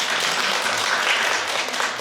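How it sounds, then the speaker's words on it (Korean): Dense, steady applause fills a Korean business briefing hall, a crowd clapping together at an even level for about two seconds with no voices on top. "박수 치게 박수"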